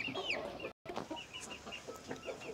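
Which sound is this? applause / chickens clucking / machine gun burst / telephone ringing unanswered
chickens clucking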